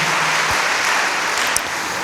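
A church congregation applauds together, a dense, steady wash of clapping that carries on without a break from start to finish.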